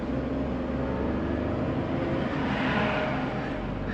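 Vehicle engine straining as it climbs a steep slope on the Kalhatti road, a continuous loud, close drone that holds steady throughout with no pauses.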